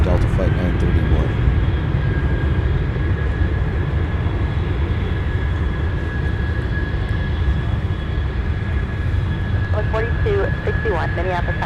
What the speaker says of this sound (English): let's take another look at our 757 that just recently touched down